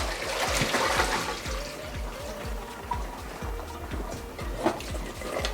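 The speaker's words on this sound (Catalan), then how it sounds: "és el torn d'escórrer les patates" Boiled potatoes being drained in a kitchen. Water pours and splashes steadily at close range, with gurgling and trickling throughout.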